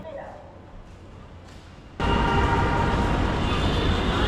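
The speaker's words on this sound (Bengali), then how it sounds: "ট্রেনটি অনেক দ্রুত গতিতে স্টেশন ত্যাগ করছে" A Dhaka metro rail train pulls out of the station at speed, its broad rumbling roar swelling suddenly to a loud, steady rush after a quieter stretch of ambient station noise.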